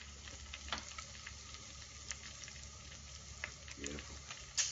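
Soft, steady sizzling of spaghetti carbonara frying in a pan, faint and continuous, with a few light clicks and a small clatter at the end.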